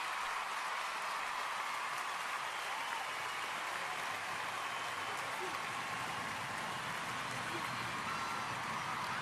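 Crowd at a gymnastics World Challenge Cup in Paris applauding after a gymnast's big dismount landing, a dense, steady wash of clapping and cheering that fills the whole stretch at moderate level.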